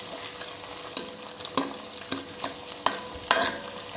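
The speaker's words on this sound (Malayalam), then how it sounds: "ഇതൊന്ന് ശരിക്കും വാടുന്ന വരെ ഇളക്കുക കേട്ടോ" A spoon stirs a curry leaf paste frying in a pan for a dried fish and mango curry, sharp scraping knocks landing every half second or so over a continuous close sizzle, with no voices.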